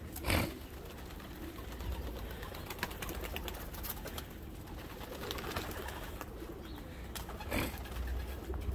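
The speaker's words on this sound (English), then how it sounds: "Beautiful birds." Pigeons coo steadily in an outdoor aviary on a very cold day, a soft continuous murmur of birds with occasional wing flutters, moderately near and heard alone without talk.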